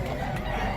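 A chicken gives a brief cluck close by, nearly lost in busy, noisy surroundings.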